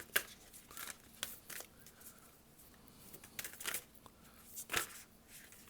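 Tarot cards shuffled by hand during a reading, giving soft, irregular riffling and slapping bursts that come and go close to the microphone, with no talking.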